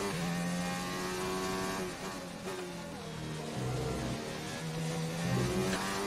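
Race car engine in the F1 2019 video game during Spain practice, a steady loud whine with rising and falling revs through corners and a hard acceleration out of one, with no talk over it.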